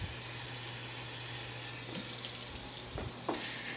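Water from a kitchen tap runs steadily to fill a cup for pizza dough, a constant close splashing hiss with small clinks near the end.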